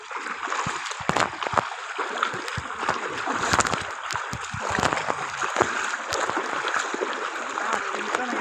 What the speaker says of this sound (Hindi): पानी की रफ़्तार है काफ़ी तेज़।